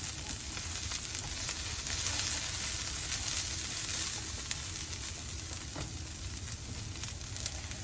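Fresh-cut vegetables stir-frying in a pan give a steady, close sizzle with a constant crackling hiss throughout, with no voices over it.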